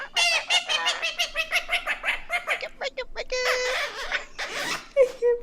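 A bird's squawking, chattering calls play back continuously in a repeated pattern of loud, clucking, voice-like bursts, close and prominent.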